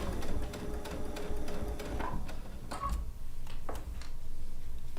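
A sewing machine stitches down a quilt binding using an open-toed foot, with a steady rapid mechanical ticking that runs throughout and pauses briefly, heard close up.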